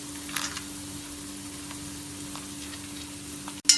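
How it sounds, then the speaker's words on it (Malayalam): Sliced onion and split cashews fry in oil for Kannur alsa while being stirred, giving a soft, steady sizzle with faint stirring scrapes and a sharp click at the end. "വീണ്ടും ഇളക്കി ഫ്രൈ ചെയ്യാം."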